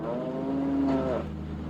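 A dairy cow in a slaughterhouse setting gives one long, loud moo, drawn out for over a second and then tapering off, over a steady low background hum.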